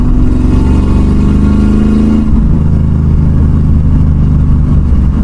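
A 1966 Ford Mustang engine rumbles loud and close, its pitch rising as it revs and then dropping back to a deep, steady drone.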